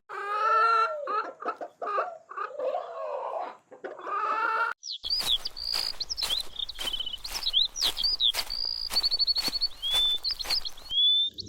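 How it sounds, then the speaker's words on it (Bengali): A cartoon chicken clucks in a forest with a run of short, bright, rhythmic clucks and squawks, close and clear, after an opening stretch of animated voice-like calls. "বনের মধ্যে এই অদ্ভুত মুরগি, ভারী সুন্দর দেখতে।"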